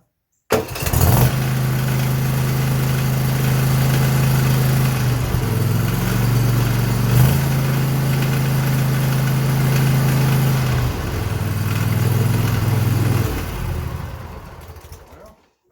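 A Snapper zero-turn mower engine, just fitted with a new fuel pump, fires up and settles into a steady, loud idle close by, running continuously with slight changes in pitch before it fades near the end.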